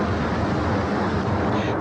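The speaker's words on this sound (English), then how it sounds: "That's the sound of powerful storms near Bowie, Texas last night" Powerful storms near Bowie, Texas roar as a dense, constant rush of wind and rain, loud and unbroken across the recording.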